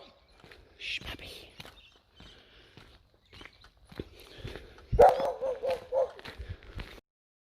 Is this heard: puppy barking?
yes